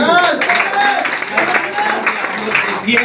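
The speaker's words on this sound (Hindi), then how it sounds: "यस, जोरदार ताली उनकी।" Audience applause during a motivational speech event in Nallasopara, Mumbai, a steady dense clapping wash that holds loud through the whole stretch, with some overlapping voices and cheers mixed in.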